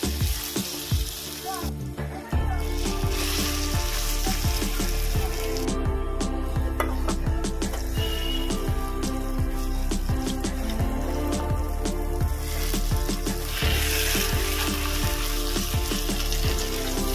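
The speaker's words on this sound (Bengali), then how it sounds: "তেলটা গরম হয়ে গেছে, আমি এঁচড়টা যে মেখে রেখেছিলাম এঁচড়টা দিয়ে দেবো।" Mashed green jackfruit frying in hot oil in a wok, a continuous dense sizzle that jumps louder as the mash goes in, with scraping and stirring clatter throughout; no talking.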